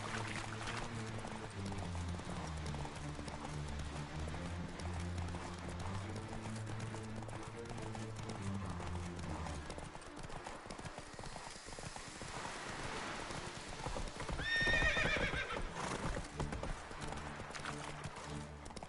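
Roach, the horse in The Witcher 3, gallops with rapid rhythmic hoofbeats for about ten seconds over a tonal game music bed, then the running fades into rushing movement and a brief shrill whinny-like burst.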